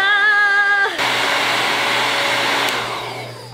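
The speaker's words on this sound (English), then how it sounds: "I'm just gonna keep the blow dryer up to the metal part so that it gets nice and warm." A blow dryer blasts steadily while held against a metal eyelash curler to warm it: a loud, continuous whooshing roar starts after a short tonal hum and fades slightly at the end.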